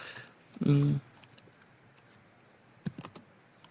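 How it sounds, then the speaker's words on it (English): A few quick keystrokes on a computer keyboard, soft close clicks in a short burst near the end, with a person speaking around them. "So let's type some things."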